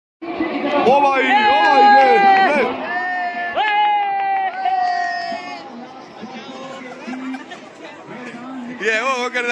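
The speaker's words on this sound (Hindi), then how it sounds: "इतनी भीड़ है आज।" A big, dense crowd of people at Khatu Shyam fills the air with loud overlapping chatter and shouting voices, steady and close throughout.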